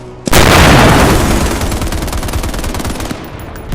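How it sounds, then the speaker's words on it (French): A sudden loud burst of rapid gunfire, dry and brutal shots rattling close for several seconds before trailing off. "Des coups de feu, secs, brutaux, définitifs."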